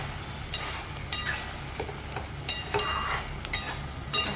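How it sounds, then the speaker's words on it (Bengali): A utensil stirs and scrapes pumpkin pieces around a pan in several separate strokes over a low, steady frying sizzle, close by and with no voices. "তো সেটাকে একটু নাড়িয়ে নাড়িয়ে মেশাতে হবে"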